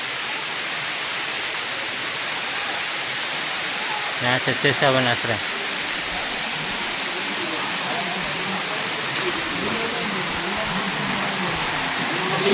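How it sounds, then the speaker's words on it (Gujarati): Rain falls in the Girnar hills near Sheshavan ashram as a steady broadband wash, loud and continuous, with someone talking briefly partway through. "તો વરસાદ પણ ચાલુ થઈ ગયો છે."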